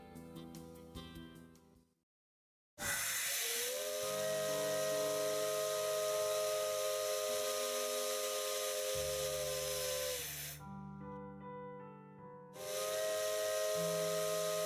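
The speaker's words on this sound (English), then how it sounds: "The steam whistle of 8620." Steam whistle of the 8620 locomotive in the Maitetsu visual novel, a loud sustained hissing blast lasting several seconds after a brief pause, with steady harmonic tones over rushing steam, then a second burst near the end.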